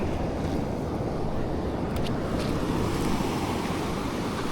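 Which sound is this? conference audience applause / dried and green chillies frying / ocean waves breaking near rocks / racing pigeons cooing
ocean waves breaking near rocks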